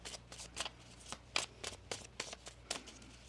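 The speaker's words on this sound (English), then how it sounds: "One more shuffle." Tarot cards being shuffled up close, a steady run of crisp riffling flicks and soft slaps repeating over a few seconds, with no voices.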